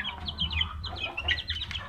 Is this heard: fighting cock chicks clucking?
yes